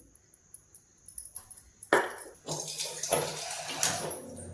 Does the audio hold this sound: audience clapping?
no